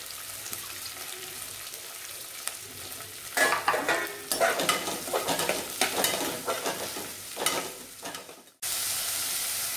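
Three finely chopped large onions sizzle in a pan for Tamil-style mutton curry, stirred with scraping strokes as the frying hiss grows louder midway, then settles into a steady sizzle, with no voices.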